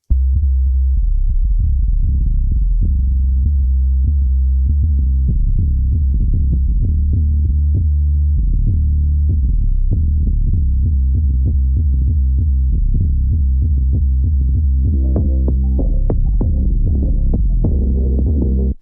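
A steady, loud low-pitched synth tone from the low band of an FAC Medusa multi-out plugin pulses throughout, its upper overtones brightening and rising toward the end as the low-mid crossover frequency sweeps upward.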